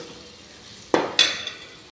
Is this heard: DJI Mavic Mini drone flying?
no